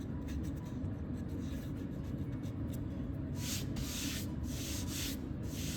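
A hard sanding block scrubs over Benjamin Moore primer in a steady close rasp, with quicker brighter strokes in the final seconds.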